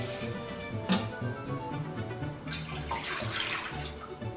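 Running water from a tap pours into a saucepan, a steady close splashing stream that brightens and hisses louder toward the end.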